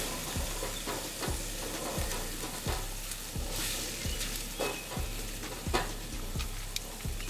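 Onions caramelizing in a pan crackle with a soft, even sizzle, while a regular low thumping pulse repeats throughout underneath.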